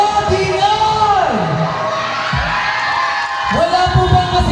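A crowd at a barangay fiesta talent show whoops, yells and shouts loudly in rising and falling swells. Voices carry through the noise throughout.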